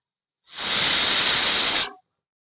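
Pressure cooker whistle venting steam while cooking akki usli rice, a single loud close hiss lasting about a second and a half, starting and stopping abruptly.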